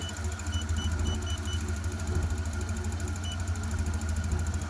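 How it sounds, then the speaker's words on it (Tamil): A TVS Jupiter ZX scooter engine, which has an O2 sensor issue, idles just after starting. It gives a quiet, steady, rhythmic throb that holds evenly throughout. "இப்போ நம்ம அந்த வண்டியை ஸ்டார்ட் பண்ணியாச்சு."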